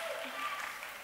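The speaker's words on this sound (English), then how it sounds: "give a round of applause for candidate number 7, Jessica Fuentes, performing a hip-hop dance" Brief, faint burst of audience clapping for a dancer at a junior miss talent contest, a thin wash of applause lasting about a second.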